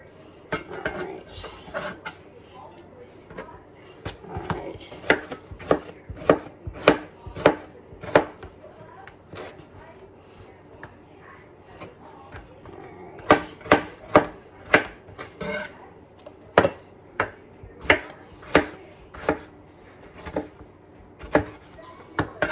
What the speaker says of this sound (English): the tomato into small pieces. Just kind of bite-sized pieces